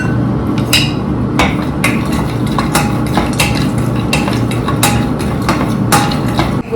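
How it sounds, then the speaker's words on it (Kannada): Walnuts fry in a pan while being stirred, with repeated sharp scraping and tapping clicks from a utensil against the pan over a steady low background hum. "ನೆಕ್ಸ್ಟು ನಾನು ವಾಲ್ನಟ್ಸ್ನ ಫ್ರೈ ಮಾಡ್ತಾ ಇದ್ದೀನಿ"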